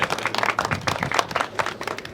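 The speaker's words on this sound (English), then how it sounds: "let's clap for Brian." A crowd at a Kansas City recycling cart rollout event applauds with dense, continuous clapping that holds steady throughout, moderately loud with no pauses.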